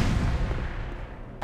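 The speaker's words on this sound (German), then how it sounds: "Und werfen eine Granate." A grenade blast in the shooter Black Mesa: a dense low-heavy boom that rolls on for over a second without a sharp onset, then fades out, heard alone with no talk.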